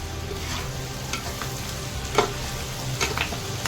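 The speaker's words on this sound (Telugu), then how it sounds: "మెంతికూర వేస్తున్నాను." Fenugreek leaves fry in hot oil with chicken liver, a steady close crackling sizzle broken by occasional scraping stirs of a spoon in the pan, with no one talking.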